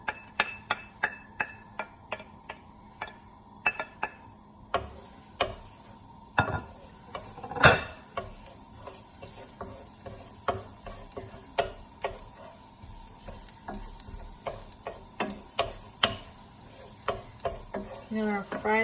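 Three cloves of freshly ground garlic fry in a pan with a soft steady sizzle, while sharp clicks and taps of stirring come in an irregular rhythm, fairly quiet and close with no talking.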